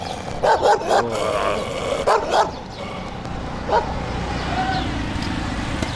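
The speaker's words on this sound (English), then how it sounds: "Oh, there's a dog." Dog near a garden by a crossing in Giza, Egypt, giving several quick, sharp barks and yips in two clusters, then one more, over steady street background noise.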